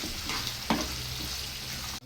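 Potatoes fry in a pan with a steady, close sizzle, with one brief stirring scrape partway through.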